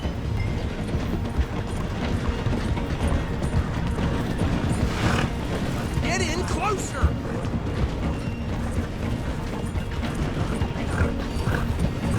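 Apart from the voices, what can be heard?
train passing a station in Red Dead Redemption 2 video game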